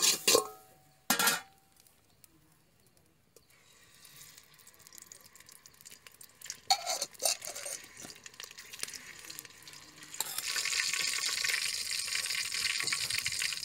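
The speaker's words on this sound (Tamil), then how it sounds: "சட்டி காஞ்சிருச்சு, எண்ணெய் ஊற்றிக்கலாம்." Oil poured into a hot pan for sambar tempering, with a few sharp clanks of a vessel at the start, quiet rustling and stirring, then a rising broad sizzle as the oil heats.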